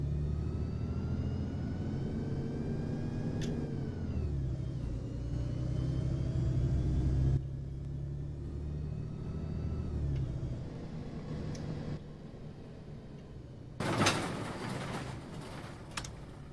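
A modded bus engine in the OMSI 2 bus simulator game, a New Line City bus with ZF transmission, drones steadily in a loud low rumble for about seven seconds, then eases to a quieter hum, with a brief hissing burst near the end.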